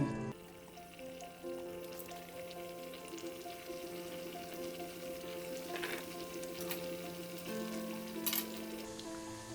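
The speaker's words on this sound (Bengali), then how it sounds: "তো তেল গরম হয়ে গেছে এবার এটা মিডিয়াম টু স্লো গ্যাসে এগুলো ভেজে নেব" Snacks frying in hot refined oil over medium-low gas, a quiet continuous sizzle with faint occasional clinks of a utensil against the pan.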